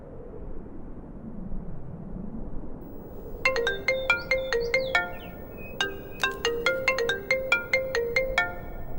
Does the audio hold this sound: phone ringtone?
yes